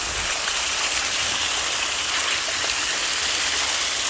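Water runs steadily into a freshly cleaned basin around a tree, a continuous rushing, splashing flow that stays loud and even throughout with no voices.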